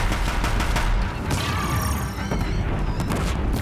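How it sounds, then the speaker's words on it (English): Heavy machine gunfire from Deathbringer machines in Horizon Zero Dawn, a loud, dense barrage of shots and booms pounding continuously, with faint crashing debris, no talk. "If the Deathbringers keep firing, this bridge will go."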